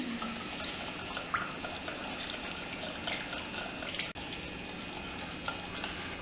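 Cake batter being beaten with curd in a bowl for an eggless, sugar-free Christmas cake, giving a steady wet stirring and slapping texture with occasional utensil clinks against the bowl.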